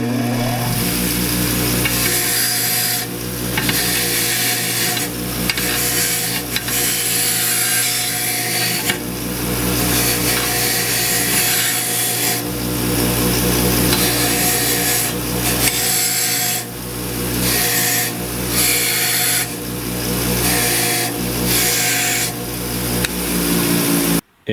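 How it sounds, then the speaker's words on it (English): A lawn mower carburetor jet, held in vice grips, is scrubbed against a spinning bench wire wheel, giving a loud, continuous harsh rasping whir with the motor's steady hum underneath and brief pauses as the part is repositioned. "I will clean it on the wire wheel here."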